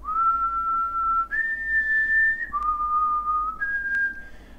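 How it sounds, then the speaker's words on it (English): A person whistles a few sustained clear notes, each held for about a second before jumping to another pitch, close and alone with no talking. "Let me whistle,"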